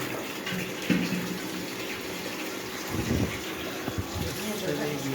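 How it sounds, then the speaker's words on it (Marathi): Tap water gushing steadily into a container as a household tank is filled downstairs, a continuous broadband rush with brief louder surges and faint voices in the background. "आपली मम्मी भरत आहे पाणी"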